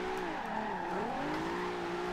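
Nissan GT-R engine in the racing game Forza Horizon 2, a steady rising and falling engine tone with some tire squeal as the car drifts, loud and continuous throughout.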